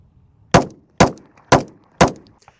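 A CZ P-01 Omega pistol fires four loud, sharp shots in an even rhythm about half a second apart, each with a short decaying echo and no talking.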